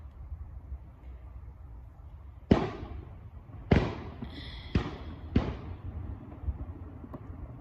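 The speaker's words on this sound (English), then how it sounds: "I'm pretty sure they're fireworks" Fireworks bursting outdoors during holiday celebrations: four sharp, fairly distant bangs in an irregular rhythm, each with a brief crackling tail, over a low background hum.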